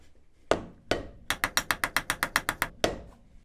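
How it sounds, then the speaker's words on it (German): Rubber mallet blows seating the wheel bearing hub on a Mercedes G-Class (W460/W461 Bundeswehr Wolf): a few spaced knocks, then a quick run of about ten sharp, evenly paced strikes and one final blow, close and clear with no talk. "mit einigen Hammerschlägen das Setzen der Narbe"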